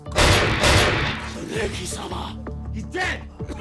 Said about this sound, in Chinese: 端着冲锋枪朝包房内一通扫射，干掉了不少日本黑帮高层